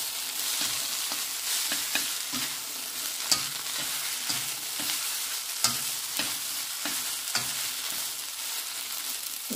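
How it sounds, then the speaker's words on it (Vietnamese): Noodles stir-fry in a hot oiled pan with a steady sizzle, punctuated by repeated scraping and clanking strokes of a utensil against the pan, close and continuous with no voices. "mình đang xào mì"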